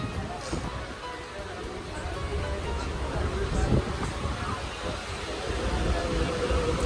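A train stands or moves at a Mumbai railway platform on a service bound for CST, a steady low rumble with rushing noise filling the whole stretch, fairly loud and close.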